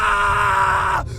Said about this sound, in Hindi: उसके दोस्तों की चीख सुनाई दी।